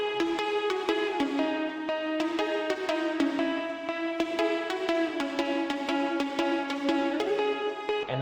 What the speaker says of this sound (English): we welcome back the guitar, but a lot of reverb on it now. And we also add in a cello.